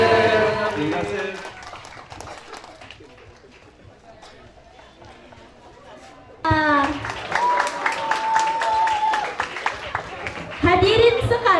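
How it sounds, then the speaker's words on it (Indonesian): An audience at a university cultural night and closing ceremony at UiTM Melaka breaks into loud applause and cheering after a quieter stretch, mixed with voices. "Berikan tepukan gemuruh semua."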